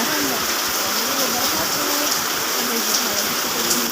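Steady rain falls on a household yard, a dense continuous hiss of drops and splashing water, fairly close and even, with faint voices underneath.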